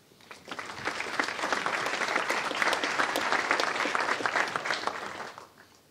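Audience applause welcoming a speaker at a tech talk, a full clapping crowd rising quickly, holding steady for several seconds, then fading out.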